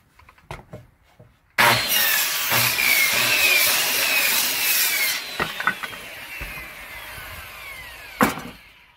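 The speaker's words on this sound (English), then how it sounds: "So let's go ahead and get that piece cut out now." A power saw cuts a wooden roof piece for a birdhouse with a loud, sustained whine that starts abruptly after a few light knocks, then trails off with clattering wood.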